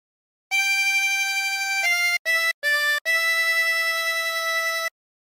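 Harmonica playing the melody of Home on the Range: sustained, reedy single notes in a slow phrase with a few short breaks, close and clear with no talking.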